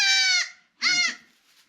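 Young fainting goat bucklings give two loud, close, high-pitched bleats, one after the other, separated by a short pause, with a faint trailing cry at the end.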